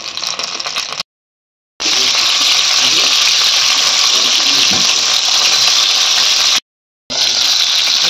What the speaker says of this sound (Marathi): या प्रकारे कारली मी तेलामध्ये परतून घेत आहे